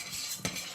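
Butter stirred in a mixing bowl while baking gluten-free vegan pumpkin cookies, a short scraping swish of utensil against bowl with one sharper knock midway, close and fairly quiet.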